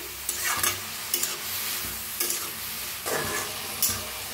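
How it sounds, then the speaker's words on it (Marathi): Bottle gourd (dudhi) pieces roasting in hot oil in a kadhai, stirred with a spatula: a steady close sizzle with several sharp scraping strokes at irregular intervals, no talking. "पहिला आपण भोपळा भाजून घेऊया।"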